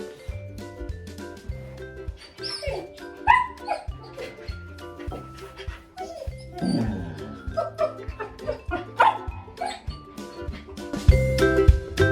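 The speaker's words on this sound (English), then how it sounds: "The dogs know that every time I put socks on, it means we're going for a walk, and this is their reaction." Several excited dogs bark and yip in rapid, overlapping bursts indoors, loud and close throughout, with whimpers mixed in as they anticipate going for a walk.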